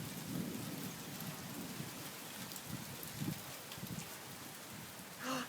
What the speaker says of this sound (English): Hail is falling.